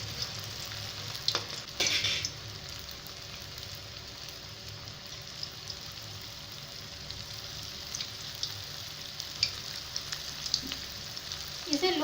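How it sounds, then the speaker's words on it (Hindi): Veg manchurian balls deep frying in oil over a low flame, a steady soft sizzle and bubbling that runs alone throughout, with a few brief louder crackles early on. "अब ये बॉल्स हम फ्राई होने के लिए छोड़ देंगे।"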